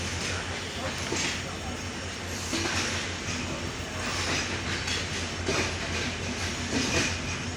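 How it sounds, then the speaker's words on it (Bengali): The Nilsagar Express pulls out of Natore station at night with a steady rumble and rhythmic clickety-clack of wheels over rail joints, moderately close, while someone talks over it. "ডাউন নিউজ এক্সপ্রেস ট্রেনটি নাটোর আউট করলো বারোটা পঁয়তাল্লিশে"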